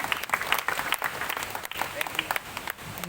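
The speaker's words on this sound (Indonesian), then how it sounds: "Tepuk tangan dulu buat Tuhan." A church congregation applauds during an Indonesian worship service, a steady wash of many hands clapping with voices calling out over it throughout.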